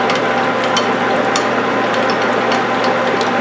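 A roughing reamer cuts a .308 rifle chamber while rebarreling a Yugoslav M48A Mauser, giving a steady, loud metallic grinding and whirring with faint ticking, continuous throughout and close by.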